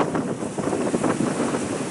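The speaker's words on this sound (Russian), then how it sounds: "Сегодня погода ветреная," Strong wind blowing across the open water of a very large reservoir near Stary Oskol, waves stirring, with steady gusty buffeting on the microphone and no voices throughout.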